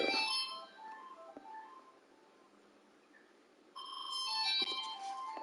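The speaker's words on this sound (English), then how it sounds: "Your work phone ringing." A work phone ringtone plays a bright electronic melody, fades to near silence, then returns louder as the ringing repeats indoors.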